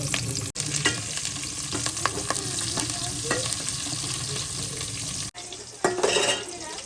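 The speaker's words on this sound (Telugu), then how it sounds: "మసాలా వేసేసుకుంటున్నా పచ్చిమిరపకాయలు కొన్ని ఉల్లిగడ్డలు ఇవి కొంచెం ఫ్రై చేసేప్పుడు" Green chilies and onions fry in oil with masala spices for chicken fried rice, a steady broadband sizzle filling the whole stretch with scattered stirring scrapes and clinks, close and loud, two brief cuts in sound, no talking.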